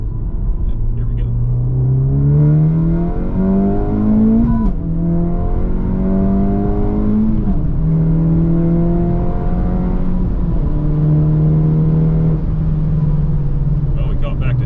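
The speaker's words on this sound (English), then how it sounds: "now we're going to do some half throttle pulls." Honda Civic Type R FL5 with a Remark titanium exhaust pulling at half throttle, engine note climbing steadily through three gears with brief dips at each shift, loud and close, as from inside the car.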